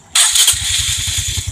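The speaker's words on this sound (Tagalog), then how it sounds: "Ayan. Okay na, start na yung motor" A carbureted Honda XRM 125 motorcycle engine cranks with a sharp mechanical whir, then catches and settles into a steady, rapid putter close by.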